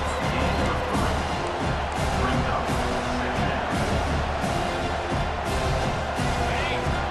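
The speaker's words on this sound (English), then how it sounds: "The roar of the crowd trying to fuel this defense to keep them pinned in their own end." A stadium crowd at a college football game roars steadily throughout, a dense continuous wall of cheering and noise with scattered louder whoops.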